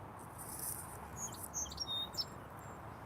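Faint bird chirps and short tweets near a lake, scattered over a steady background hiss, somewhat distant, with no talking.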